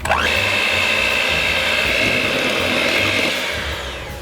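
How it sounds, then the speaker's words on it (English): An electric hand mixer whirs steadily through pound cake batter made with milk, a loud continuous motor whine that holds for several seconds and then eases off slightly at the end. "And you mix it till it's completely fluffy."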